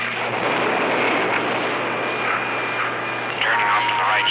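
Launch of the X-15 rocket plane, a loud steady roar with a low hum and rising tonal whine, heard under radio chatter between crew.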